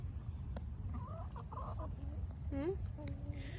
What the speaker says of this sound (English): This is going to be my prize rooster.